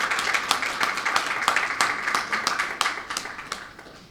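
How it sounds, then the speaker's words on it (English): A small audience at a programme launch in Belize claps for a speaker, fairly sparse individual claps with distinct sharp hits in an uneven patter, close and moderately loud, trailing off toward the end. "Let's give her a round of applause."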